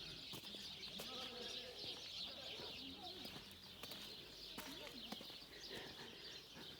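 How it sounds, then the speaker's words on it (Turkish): Birds chirp and coo faintly in the background at the Paşabağları rock formations in Cappadocia, with occasional wing flaps, all fairly quiet and distant. "Kuş sesleri var."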